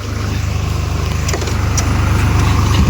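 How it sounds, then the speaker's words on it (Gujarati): A Bajaj Pulsar 150 motorcycle engine running steadily and close, with a low rhythmic idle throbbing that grows slightly louder toward the end. "ચાલુ કરો આપણે પલ્સર 150"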